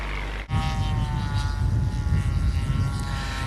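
A full-size propeller aircraft roars past in a low pass opening a flying contest after a brief cut, its steady engine drone and rumble filling the air.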